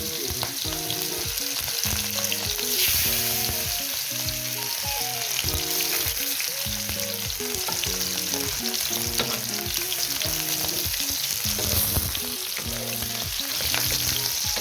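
Food frying in hot oil in a Sylheti home kitchen, a loud, continuous, crackling sizzle with constant spattering and a steady hum running underneath the whole time.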